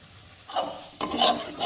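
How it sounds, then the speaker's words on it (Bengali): Masala spices fried and stirred in a pan for a fish dish, giving soft scraping stirs with a gentle sizzle in two short bursts, close and fairly quiet. "মশলাটা একটু ভালো করে কষিয়ে নিই।"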